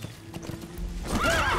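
A horse in the Metal Gear Solid V: The Phantom Pain video game, set in Afghanistan, with quick hoof clip-clops, then a loud, close whinny and snort at the end.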